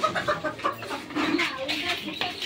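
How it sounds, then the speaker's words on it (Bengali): Month-old native chicken chicks clucking and peeping nearby in short, uneven calls on a poultry farm, with a person talking faintly in the background. "এখানে 2টা মুরগির বাচ্চা আছে।"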